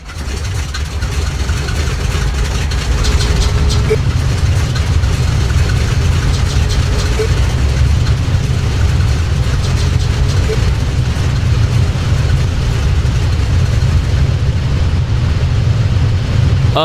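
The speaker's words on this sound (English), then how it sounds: "We'll start up the engine inside, and then we will do the same outside." A Douglas DC-4 piston engine runs steadily, heard from inside the aircraft: a loud, continuous, deep rumbling drone with a constant throbbing texture that holds evenly from start to finish.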